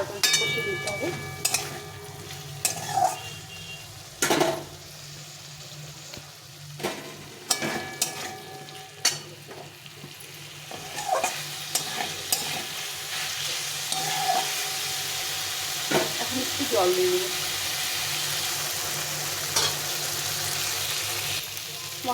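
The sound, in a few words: pointed gourd and potatoes sautéed in yogurt masala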